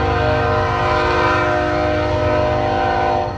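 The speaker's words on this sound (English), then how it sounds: "We got Norfolk Southern 8044, and I think I caught that one 2 weeks ago." Norfolk Southern locomotive 8044 passing close by on a rail line, a loud sustained drone with layered tonal hum and a rumbling undertone throughout, fading slightly at the end.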